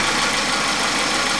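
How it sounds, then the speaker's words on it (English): A car engine idles steadily up close after a head gasket replacement, a low even drone with a faint, regular lifter tap ticking underneath. "I'm starting to hear some lifter tap."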